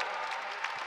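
A crowd at a basketball game applauds a player leaving on a substitution, steady dense clapping from a large audience throughout, with no talk.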